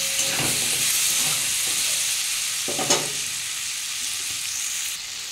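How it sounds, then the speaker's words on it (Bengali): Bottle gourd greens seasoned with salt and turmeric sizzle steadily in a pan, with a couple of brief stirring scrapes breaking through the continuous frying hiss. "দিয়ে বন্ধুরা এটা আমি ভালো করে ভেজে নেবো চাপা দিয়ে দিয়ে"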